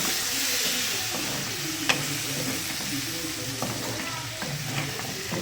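Steady sizzling and frying in a pan as eel fish is added to the masala, with stirring scrapes and occasional clinks, continuous and close.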